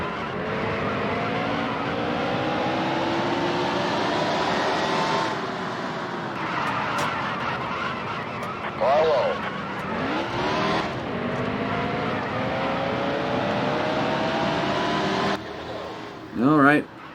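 Race cars lapping in a stock-car racing video game, engines whining and shifting pitch as cars pass, with tire squeals and brief bursts of engine surge, under a commentator-like voice talking throughout.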